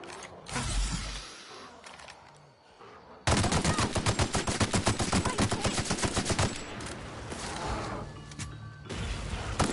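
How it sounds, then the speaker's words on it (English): A tactical shotgun firing in The Outer Worlds, a fast run of loud, even blasts with mechanical clatter, followed by quieter scattered shots and rattles. "Tactical shotgun."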